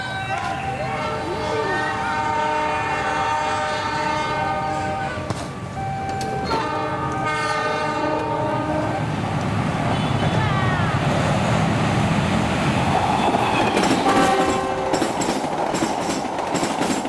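Train rolling past on a station track, with loud continuous rumble, wheel clatter and high squealing tones building toward the end, while a voice talks over it.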